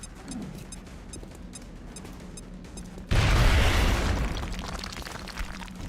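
A frag grenade goes off in XCOM Long War, a sudden loud boom partway through that rumbles and slowly decays after a quieter stretch of game ambience.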